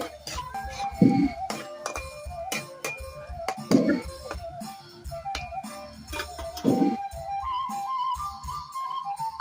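A spoon clinks and scrapes against a metal or glass vessel while turmeric powder is stirred into mango pickle, with sharp clinks recurring every few seconds amid softer scraping and background noise.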